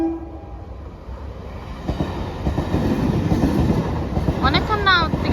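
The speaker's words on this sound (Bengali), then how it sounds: "এই যে দাঁড়িয়ে আছি গেট পড়ে গেছে এই যে ট্রেন এসছে এখন" A train arriving at a level crossing with the gate down, its rumble and clatter building steadily and a horn sounding near the end, heard from close by on a hot day.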